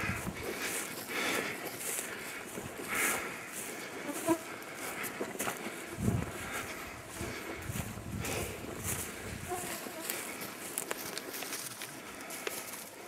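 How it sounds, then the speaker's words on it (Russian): Mosquitoes swarm around in the Mus-Khaya mountains of Yakutia in summer, a thin continuous whining buzz that persists throughout, with occasional footsteps and rustling nearby. "О, комарья много."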